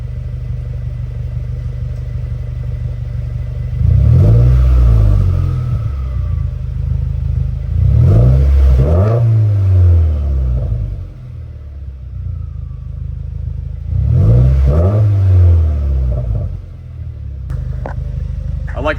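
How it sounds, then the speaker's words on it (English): A 2018 Subaru WRX with a MAP-performance axle-back exhaust, warm and idling with a low steady rumble, then revved three times in rising, swelling bursts that drop back to idle between them, close by. "we're gonna give it a few revs,"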